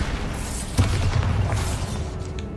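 Bombarda spell explosion in Hogwarts Legacy: a loud, deep rumbling boom that hits sharply just under a second in, then rolls on as a sustained roar that slowly fades.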